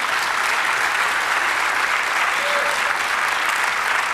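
Sustained, loud applause from a Spanish-speaking church congregation during a sermon fills the whole stretch as a thick, unbroken roar of clapping with a faint crowd murmur beneath.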